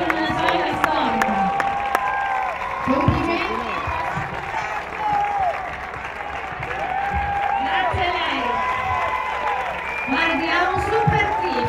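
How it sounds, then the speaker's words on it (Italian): Big round of applause at the opening of synthetic sports pitches in Langhirano, sustained crowd clapping with cheering, while people talk briefly near the microphone. "dedicherei un altro grandissimo applauso"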